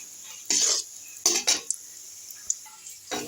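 Rolled snacks being slid into white oil one by one to fry slowly, a few separate bursts of sizzle with metal utensil clinks and scrapes between quiet gaps, close and moderately soft.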